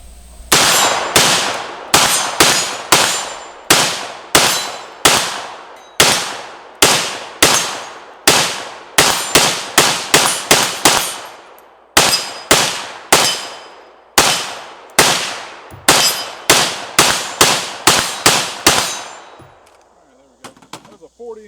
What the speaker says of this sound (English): I could shoot this some more.